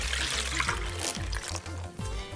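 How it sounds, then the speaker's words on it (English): Canned beef broth pours into a crock pot with a steady, quiet splashing trickle that lasts about two seconds. "all I'm gonna do is pour in my can of beef broth"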